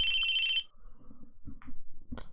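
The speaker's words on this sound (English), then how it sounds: "Our conversation was cut off by the sudden sound of a phone." A phone ring sounds in the visual novel Chaos;Child, a bright electronic trill that cuts off after about half a second, followed by a few soft, scattered low thumps and rustles.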